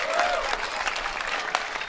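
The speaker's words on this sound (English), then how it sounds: "the crowd goes nuts for that rally" A tournament crowd breaks into loud, sustained applause and cheering after a long pro mixed doubles pickleball rally, the roar steady through the whole stretch.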